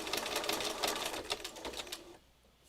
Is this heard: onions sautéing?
no